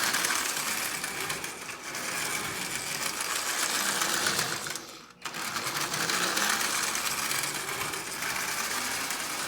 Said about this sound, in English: Double reduction motor that is up and running.